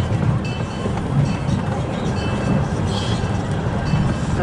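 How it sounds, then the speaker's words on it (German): Locomotive rolling past at a park railway, a steady loud rumble with rail noise throughout, close and continuous. "Da ist die Lok."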